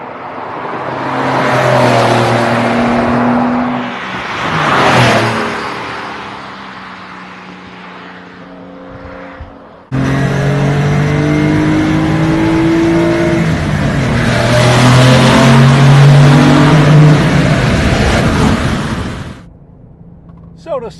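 A Porsche Carrera S turbo with two-wheel drive revs hard above 4,500 RPM. The engine note climbs and drops through gear changes, then pulls loud and rising through a long, sustained acceleration, heard close from inside the car.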